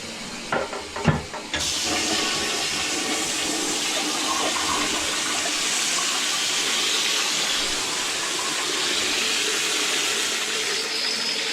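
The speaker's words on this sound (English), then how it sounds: "I'm gonna turn on some water in there, flush this out." Water rushes through plumbing as a plumber runs it to flush a line, opening with a few knocks and clunks, then a loud, steady hissing gush that continues close-up without talk.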